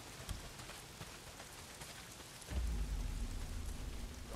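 Heavy rain pours down in the video game Days Gone, a dense steady hiss that is joined midway by a deep rumble of thunder that keeps rolling under it.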